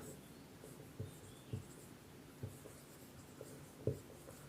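Chalk or marker writing on a classroom board during a Class 10 physics lesson on electric circuits, a steady series of soft taps and strokes at a moderate distance, no talk heard.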